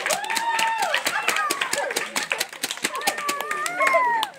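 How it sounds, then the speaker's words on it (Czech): Several people clap along for a boy at his seventh birthday party after a scarf magic trick, with lively overlapping voices and children's chatter over the steady hand claps. "Zatleskáme Patrikovi!"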